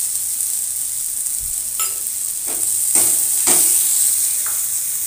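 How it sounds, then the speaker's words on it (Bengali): Chopped chili and cumin powder fry in a pan for restaurant-style dal fry, giving a steady close sizzle with a few scraping stirs of a spoon. "এবার আমি ভালো করে ভেজে নেব।"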